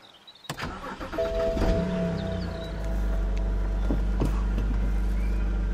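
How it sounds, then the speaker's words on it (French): A BMW E91 estate cranks with a whining starter and catches, then settles into a loud, steady idle heard close up, with no talking. "je vais démarrer la voiture"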